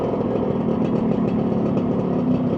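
A Honda NovaRS 110 motorcycle engine runs steadily nearby with a constant mid-pitched hum and no clear revving, alone without voices.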